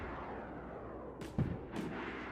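Gunfire in the DayZ video game, fired with unlimited admin ammo: a couple of faint, distant shots a fraction of a second apart, set against a steady background hum.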